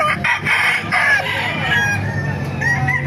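A chorus of roosters crowing and hens clucking fills a crowded poultry area at the Baliuag pet market in the Philippines, calls overlapping continuously and loud nearby.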